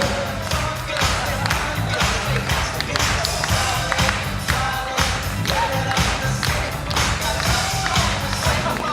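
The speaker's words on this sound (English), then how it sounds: "Clap those hands." Guests at a wedding reception clap steadily as couples are welcomed in, the rhythmic hand claps blending with loud, beat-heavy music throughout.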